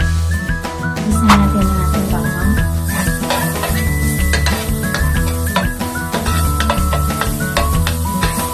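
Pork belly fries until brown in a pan with a continuous sizzle and occasional utensil clatter, set beneath fairly loud background music.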